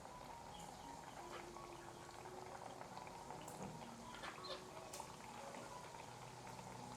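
Flattened bananas for pisang goreng geprek sizzle and bubble in hot frying oil, a soft, steady crackle with scattered pops.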